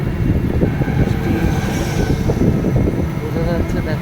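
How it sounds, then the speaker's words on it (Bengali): Cars speed past on a rain-soaked Kolkata street near a metro line and flyover, a loud, continuous rushing roar of tyres and engines close by, with voices faintly mixed in. "বৃষ্টির ভেতর গাড়িগুলো দুরন্ত গতিতে ছুটে চলছে।"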